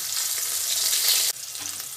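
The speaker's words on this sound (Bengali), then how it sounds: "মাছ ভাজা হচ্ছে" Pieces of rohu fish fry in hot oil in a pan with a steady, dense sizzle that drops slightly in level partway through, then continues.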